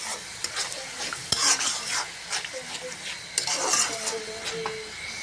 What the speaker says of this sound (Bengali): তরকারিটা বসানোর জন্য মশলা কষাই নিলাম, ভালো করে মশলা কষাই নেব।